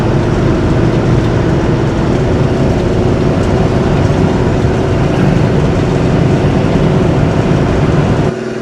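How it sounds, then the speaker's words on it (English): Deep, steady engine drone with a low rumbling exhaust note from a 1967 Plymouth GTX, continuous and loud from inside the moving car on a bumpy road, with road noise underneath. "Exhaust has a good note to it"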